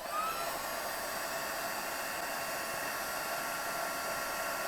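A heat tool blows steadily while melting embossing powder on a greeting card, a constant close, moderately loud whirring hiss with no pauses throughout.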